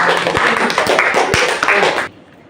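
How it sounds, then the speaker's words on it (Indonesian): A classroom group claps for the second presenting team during a school teaching session, a brisk burst of many hands that is fairly close and loud and then stops abruptly after about two seconds. "beri tepuk tangan ya untuk kelompok 2"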